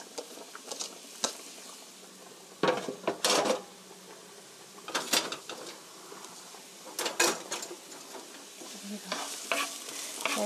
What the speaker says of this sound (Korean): 노릇노릇하게 될 때까지 볶아주세요.